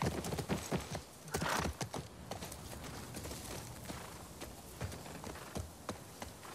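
Horse hooves clip-clop at a steady riding rhythm in The Last of Us Part II, with a few heavier thumps near the start and faint insect buzz in the background.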